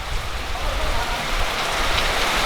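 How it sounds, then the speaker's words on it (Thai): Steady rain falls in a broad, even hiss with a low rumble beneath, constant and fairly close, no clear voices over it. "ตอนเนี่ยฝนตก"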